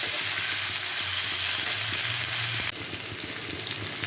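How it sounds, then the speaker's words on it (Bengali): Loud, steady sizzle of spices frying with turmeric and salt in a hot pan, continuous and close throughout, with a slight drop in intensity partway through and no speech. "হলুদ আর লবণটা খুব কম দিয়ে একটু হালকা করে ভেজে এটা তুলে নেব।"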